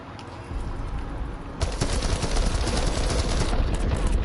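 Rapid bursts of gunfire in the video game Deathloop, played on PS5, run as a dense, continuous rattle that gets louder after the first second and a half and then holds steady without a break.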